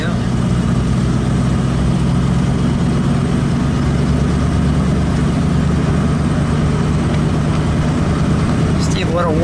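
A 1930 Cadillac Roadster with a 452 cubic inch V16 engine rumbles low and steady on a country road, with wind noise and a voice talking over it.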